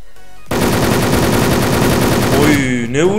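Loud, continuous automatic gunfire strikes a player in an online shooter game, bursting in after a brief quiet moment and running unbroken, with a voice reacting over it.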